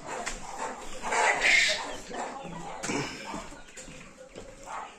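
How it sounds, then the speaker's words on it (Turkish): Farmyard chickens cluck and squawk in an irregular stream, close and fairly loud, with bursts of busy poultry noise and possible barking in the mix. "Burada tavuklarımız şu şekilde."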